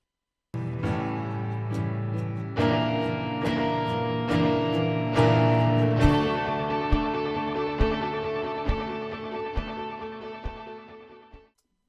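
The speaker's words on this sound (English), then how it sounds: "I'm going to double it up on the left side with the Telecaster. I use the exact same amp setting, same like tube screamer setting, except I use the tape echo" Telecaster electric guitar through a tube screamer overdrive with tape echo, played as strummed chords and then picked single notes, with clear repeated attacks and ringing sustain and no voices.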